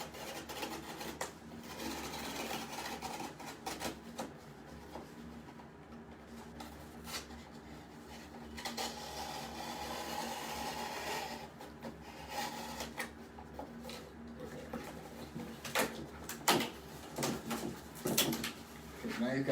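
An X-Acto knife cuts a flap along a line in a cardboard pizza box, giving faint scratchy slicing strokes and rasps with a low voice murmuring in the background, growing busier toward the end.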